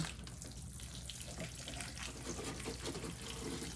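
Water pours steadily onto the soil of a potted chili plant indoors during a New York winter, a continuous close splashing trickle that fills the whole span without pause.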